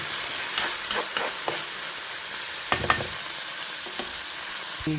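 Mint leaves softening in a pan at home, a steady soft sizzle with occasional clinks and stirring scrapes, fairly close, no voices.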